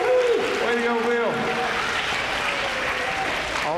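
A school audience at a DARE event applauds a police officer, a brief burst of clapping and cheering that trails off under a presenter's voice and a kid's whoop.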